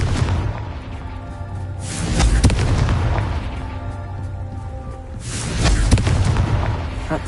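A Confringo spell explosion in Hogwarts Legacy on PS5, two heavy rumbling booms a few seconds apart over a dense, steady game soundscape, with no speech.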